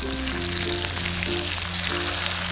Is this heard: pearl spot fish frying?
yes